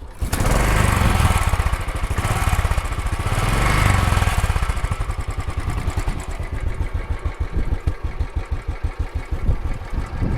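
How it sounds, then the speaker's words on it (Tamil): A five-year-old Royal Enfield Standard 500cc motorcycle with its silencer runs steadily close by, revving and then settling into a loud, rhythmic single-cylinder thump with no other sounds. "ஒரு 5 வருஷம் ஓல்டான ஒரு ராயல் என்ஃபீல்டு சவுண்ட் இப்படி இருக்கும்னு கேட்டுக்கோங்க"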